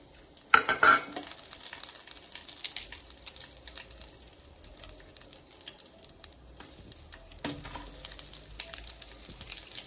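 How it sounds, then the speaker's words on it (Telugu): Garlic and cumin fry in oil in a hot kadai with a faint, close sizzle, broken by a few sharp clatters of a spoon against the pan near the start and again later. "కొంచెం ఇది మగ్గాలి దీంట్లో ఆయిల్లో"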